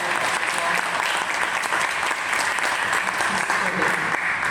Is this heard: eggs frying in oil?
no